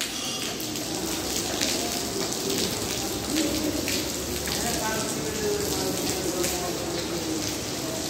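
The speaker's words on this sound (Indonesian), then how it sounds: "Dan karena hujan kayak gini" Heavy rain pours at Masjidil Haram in a dense, continuous hiss with water leaking and dripping, scattered close splashes and drips spread through it, and faint distant voices underneath.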